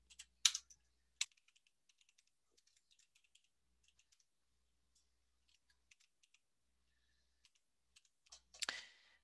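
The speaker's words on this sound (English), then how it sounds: "and then we will type in there Mr. Robert Cobb." Faint, sparse key taps on a computer keyboard, a few louder clicks at the start and a mouse-like click at the end, quiet and close with long gaps between keystrokes.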